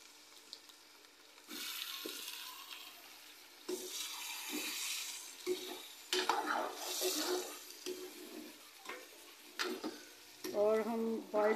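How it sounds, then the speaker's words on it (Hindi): Chicken frying in a pot with golden-brown onions, in bursts of sizzling and stirring, with quieter gaps where water runs from a tap in between, close up and without speech. "अब मैंने इसमें चिकन शामिल करने लगी हूँ और चिकन को अच्छी तरह से गोल्डन ब्राउन करने के बाद इसमें पाउडर मसाले"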